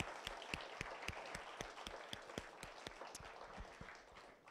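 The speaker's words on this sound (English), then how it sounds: "Nice big round of applause for these kiddos." Applause from an audience at a high school public speaking final, a roomful of hands clapping in quick irregular bursts that stay moderately loud and fade slightly toward the end, with no talking.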